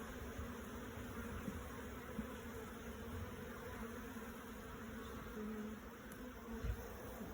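Bees buzzing in a steady, faint, continuous drone while an open beehive is inspected, a low quiet hum with occasional small knocks and no voices.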